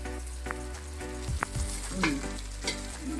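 Rice and prawns frying in a pan for prawn biryani, a close, continuous sizzle with occasional stirring scrapes and pops.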